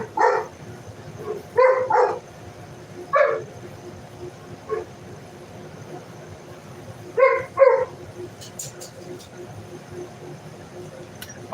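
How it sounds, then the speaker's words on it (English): A dog runs out of a house across the street and barks in a few short bursts, mid-distance and fairly loud, with quiet gaps and steady background hum between the outbursts. "They come running out of the house and bark."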